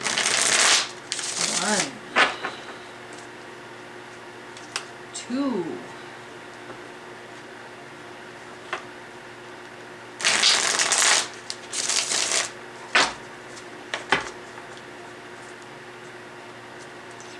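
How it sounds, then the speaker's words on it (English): Tarot cards riffle-shuffled in several short bursts with pauses between, close and crisp, while someone talks and counts between the shuffles. "let's get 3 shuffles"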